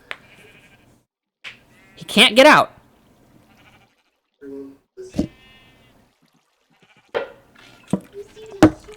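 Sheep bleat in a Minecraft game with the Better Than Wolves mod, a loud wavering bleat standing out among sparse game sounds, with someone speaking briefly between the noises.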